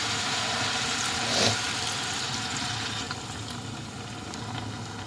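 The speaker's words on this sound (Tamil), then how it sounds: "இப்போ வந்து கொஞ்சமாக தண்ணி விடுவோம்," A little water is poured into a hot cooking pan of peppered liver fry, raising a steady, loud, close sizzling hiss that briefly swells and then continues evenly.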